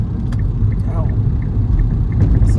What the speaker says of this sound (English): my car sounds like shit